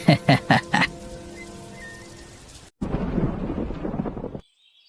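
Cartoon thunderstorm with rain: a few sharp thunder cracks open, then a low rumble, a brief cut, and a dense burst of rolling thunder and rain noise before it stops abruptly.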